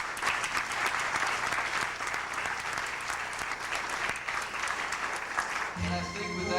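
Big round of audience applause at a Christian music awards show, a steady roar of many clapping hands for several seconds before a voice comes in at the end.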